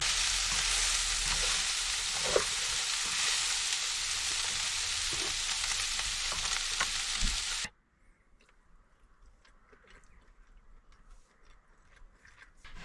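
Minced beef frying in a pan on a camper van stove, a steady broadband sizzle with a few crackles for about seven and a half seconds, then it cuts to near quiet with faint ticks.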